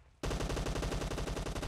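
A game gun fires in rapid automatic bursts, loud and close, starting abruptly after a brief quiet and continuing as a steady rattling stream of evenly spaced shots with no voices.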